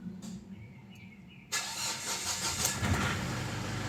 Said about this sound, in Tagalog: Pa-start ko na nga itong makina.